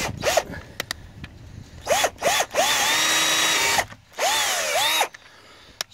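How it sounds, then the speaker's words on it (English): A power drill boring a hole, with several whining bursts of the motor ramping up and down, the longer runs near and loud and separated by short pauses. "I just drilled my hole, as you can tell, right there."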